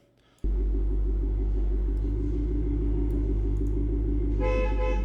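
A car horn blares loud and continuous for several seconds over a low engine rumble, starting abruptly after a quiet moment, with a brighter tone rising near the end.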